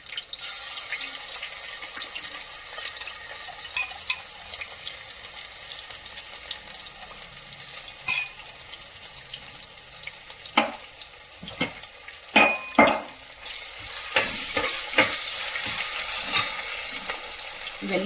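Ginger-garlic paste fries in hot oil for chicken biryani, a continuous close sizzle broken by sharp scrapes and clatters of a spoon stirring the pan.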